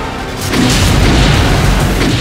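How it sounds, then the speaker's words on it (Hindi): Explosions in Gaza make a loud, deep boom that swells into a sustained low rumble lasting about two seconds. No voices are heard. "गजा में धमाकों का ये वीडियो इजराइल ने बनाया है।"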